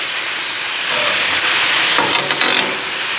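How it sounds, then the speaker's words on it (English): Chicken stir fry with honey, soy, garlic and ginger sauce sizzling loudly on an outdoor gas grill top, a dense steady hiss with a brief burst of stirring scrapes near the end. "Listen to that sizzle."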